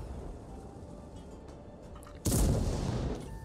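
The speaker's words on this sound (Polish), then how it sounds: "To był dosyć kiepski strzał." A tank cannon fires in the World of Tanks video game, a sudden loud boom over a steady rumbling engine drone that lingers afterward.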